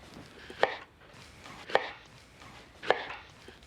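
Three evenly spaced, crisp knife chops cutting potatoes into chunks on a board, each a sharp thud about a second apart, close and fairly quiet.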